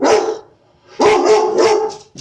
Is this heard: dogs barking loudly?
yes